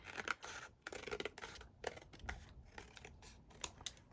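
Scissors trim paper journal card blanks, a rapid series of crisp snipping clicks and paper rustles, close and fairly quiet, with no voices.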